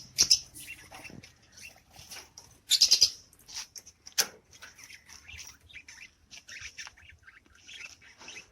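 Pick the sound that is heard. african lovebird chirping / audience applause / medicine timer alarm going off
african lovebird chirping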